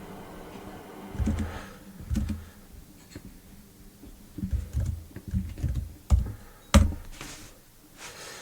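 A computer keyboard is typed on in uneven bursts of close, crisp key clicks, with pauses between and a firmer final press like the Enter key.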